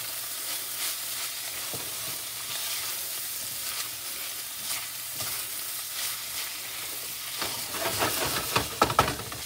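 Meat and vegetables for cheesesteak sizzle in a pan while being stirred, a soft continuous frying hiss broken by scraping stirs that grow busier toward the end.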